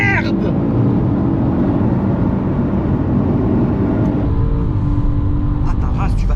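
A BMW M3 accelerates hard through a tunnel, its engine producing a loud, sustained, echoing roar as it shifts through the gears, while people talk excitedly inside the car.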